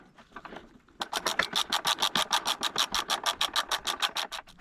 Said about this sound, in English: Slide the caliper back onto the disc, line it up